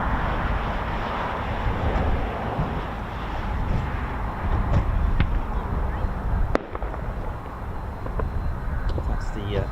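A bird-scaring flare goes off at RAF Waddington during Red Arrows winter training, giving a sharp crack over a constant wash of aircraft and outdoor noise.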